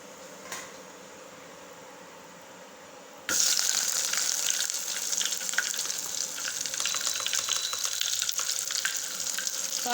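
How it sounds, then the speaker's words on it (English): Onions and cashew pieces hit hot oil in a pan and burst into a loud, steady sizzle that continues evenly after a quieter start. "Now I am going to add onions"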